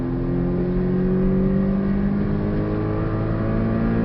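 A Porsche Cayman 718 S accelerates hard around the Portimao race track in the Algarve, its engine droning loudly from inside the cabin with a steady rising pitch as the revs climb through the gear, with no voices over it.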